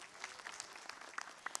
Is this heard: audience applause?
yes